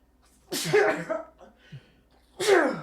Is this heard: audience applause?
no